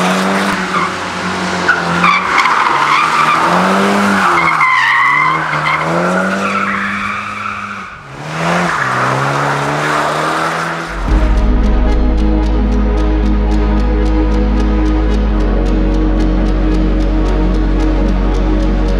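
A Toyota GR Supra 2.0 with a 258 PS four-cylinder drifting, its engine howling through shifting revs while the tires squeal and skid loudly and continuously, close up.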